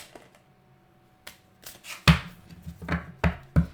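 Oracle cards being shuffled by hand, a few soft taps followed by a run of crisp, riffling slaps and flicks that grow louder toward the end, close up with no talking.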